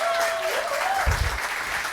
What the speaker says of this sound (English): let's give Abby and Joe a round of applause